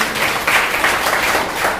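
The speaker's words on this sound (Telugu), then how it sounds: "అందరూ చప్పట్లు కొట్టి దేవుని మహిమపడతాం" Church congregation clapping together during a live Sunday worship service in Yerragondapalem, a steady dense patter of many hands lasting the whole moment, moderately loud and close with no voices on top.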